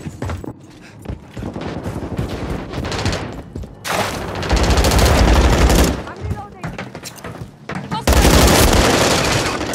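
Rapid bursts of automatic gunfire and scattered shots in Call of Duty: Modern Warfare 3 multiplayer. The fire comes in loud, dense rattling volleys, with the heaviest bursts in the second half.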